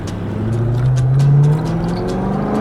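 Close, loud exhaust note from an Audi RS6 Avant wagon driven fast, a rising engine tone pulling hard for a couple of seconds before settling back.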